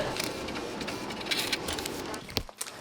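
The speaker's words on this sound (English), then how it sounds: "Let's get the last 5 pages printed out, and then we can get back to labeling." A laser printer runs label sheets through with a steady mechanical whir and rapid rhythmic clatter, loud and close, ending in a few sharp clunks as the pages finish.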